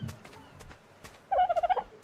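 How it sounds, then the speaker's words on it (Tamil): A dodo bird in ARK Survival lets out a fast gobbling call, a quick burst of about six warbling pulses near the end after scattered soft clicks and thuds. "டோடோ பேர்ட்"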